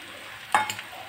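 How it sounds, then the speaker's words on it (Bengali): Mango pickle with sugar stirred in a pot, one short scraping swish of a spoon, close and brief against a quiet background. "এটাও ভালো করে মিশিয়ে নেব।"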